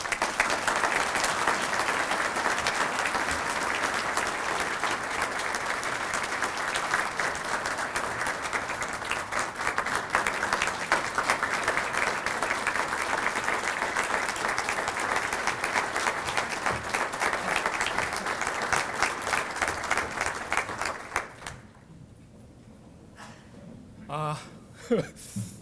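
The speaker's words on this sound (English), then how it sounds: "So how about a round of applause for Mr." Sustained, dense applause from the audience at a community science luncheon welcoming a company president lasts about twenty seconds, then drops away abruptly, leaving near silence with a few scattered sounds.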